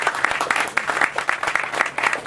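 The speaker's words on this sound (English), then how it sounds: "he deserves a big round of applause for welcoming us into this community" A crowd applauds at a ribbon-cutting for a new hospital clinic in Warrenton, a steady burst of dense clapping from many hands, loud and close, with no talk over it.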